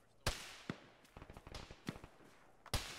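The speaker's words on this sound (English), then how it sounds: "That's a lot of shooting, I know." Gunfire in the Arma military shooter video game comes as several sharp, separate shots and a quick burst of smaller cracks between them. The shots are fairly faint and spread unevenly over a few seconds.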